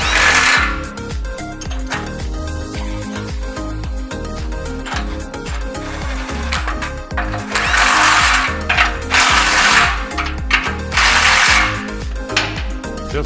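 A hand ratchet snugs up the inlet clamps on a Chevy/GMC exhaust system, a loud, close run of rapid clicking strokes repeated in bursts with a few sharper metallic scrapes between them.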